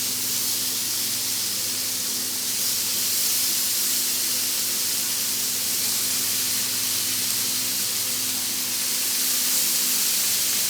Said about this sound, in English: Let's get this bacon on and see how this cook's going to go.